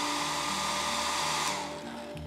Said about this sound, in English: I'm using the hairdryer to speed things along in the drying.